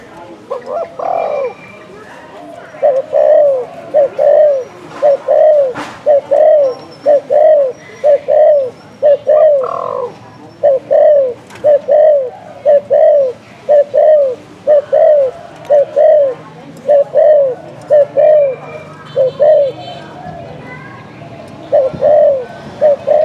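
A decoy dove coos loudly and close by in a steady repeating rhythm of paired low hoots, with brief pauses between phrases.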